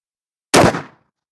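A single sharp, loud rifle shot of Underwood 62gr .223 ammunition with nickel-plated case and solid copper bullet, fired from a 16-inch Ballistic Advantage barrel, cracking once and decaying quickly.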